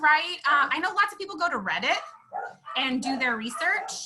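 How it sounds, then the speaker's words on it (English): A pet dog barks and yips in brief bursts in a home, largely buried under a person talking steadily in an interview-style discussion. "I know that's my dog."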